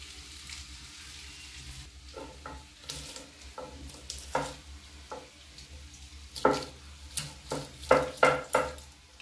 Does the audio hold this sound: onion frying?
yes